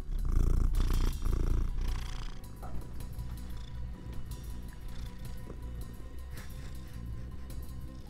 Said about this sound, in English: I don't know if the mic's picking up the purrs, but she is purring.